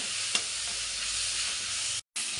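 Ginger garlic paste fries in a pan for chicken gravy, giving a steady, close sizzle with a brief stirring clink early on and a short break in the sound near the end.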